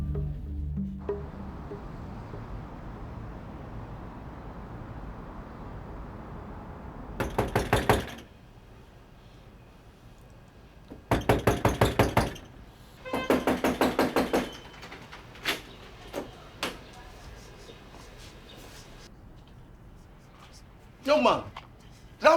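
Knuckles rap on a front door in several separate bursts of quick, sharp knocks, loud and close, with quiet stretches between and a low background hum.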